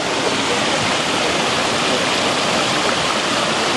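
River water rushing steadily and loudly as people wade across it on foot, a dense, unbroken flow with no voices.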